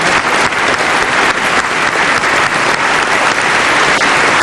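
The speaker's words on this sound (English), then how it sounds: "So a little round of applause." An audience at a pre-debate briefing breaks into steady, dense applause that holds at full strength throughout, with almost no voices beneath it.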